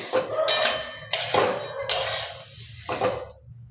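Fried peanuts tossed with salt in a metal pan, stirred with a utensil; a few loud scraping, clattering strokes with rattling nuts, separated by short pauses, close up with no talking.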